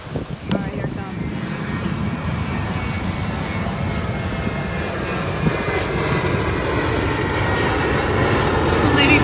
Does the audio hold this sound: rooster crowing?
no